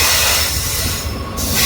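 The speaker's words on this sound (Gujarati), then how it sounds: "ટ્રેન આવી હવે" A train pulls into a station with a loud, close, continuous rumble of rolling wagons and metallic wheel noise, with no voices.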